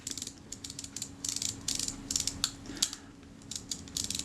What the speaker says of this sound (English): I've got my click stops.